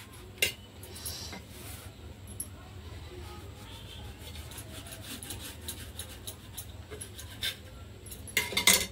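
A knife cuts through an egg paratha on a plate, giving soft intermittent scraping and rubbing with a few sharp clinks of metal on the plate, close and fairly quiet.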